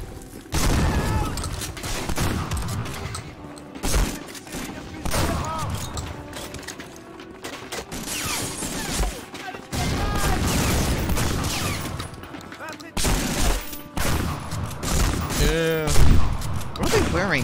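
Gunfire in the World War II shooter Medal of Honor Frontline at Arnhem: bursts of shots and booms recur throughout, mixed with game noise and a voice talking over the action.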